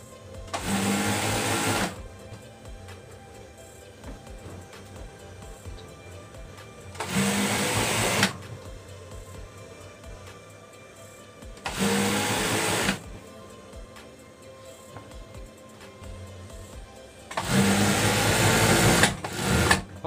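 A sewing machine stitches the pieces of a torn bed cover together in four loud, close bursts of rapid whirring, separated by quiet pauses.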